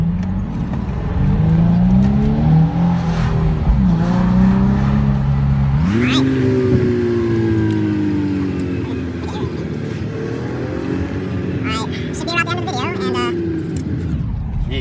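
A 2006 Nissan 350Z accelerating hard down a straightaway, its engine note rising through the revs, dropping at a shift and climbing again, heard from inside the car with voices talking.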